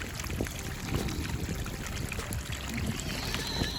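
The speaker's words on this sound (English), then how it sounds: "Wow, look at that waterfall." Water cascades steadily down a newly built garden pond stream and waterfall, giving a soft, continuous rushing and trickling wash that stays faint and even throughout, with no voices.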